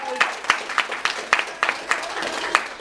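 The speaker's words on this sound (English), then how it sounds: "Give her a round of applause" A crowd claps in a quick, scattered patter of applause, with voices talking over it.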